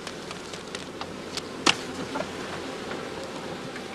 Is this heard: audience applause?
no